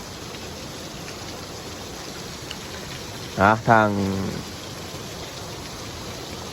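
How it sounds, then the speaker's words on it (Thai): Steady rain falls in Xaisomboun, Laos, a continuous even hiss throughout with a brief spoken word near the middle. "ถือว่าฝนตกดีเลยเพราะว่าใกล้สิเข้าพรรษาแล้ว"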